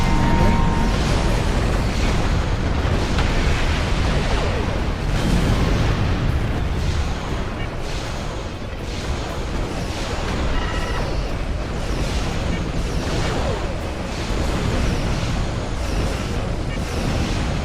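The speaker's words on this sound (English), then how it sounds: "That was quite an explosion." A long, dense roar of explosions in Star Trek Online, continuous rumbling blasts and bursts layered thickly for the whole stretch, loud and close with no clear pauses.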